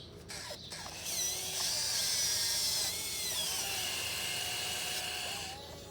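A repaired RC excavator digs loosened dirt, its small electric motors whirring and whining in rising and falling pitches as the arm moves, close and fairly loud, with quieter gaps at the start and end.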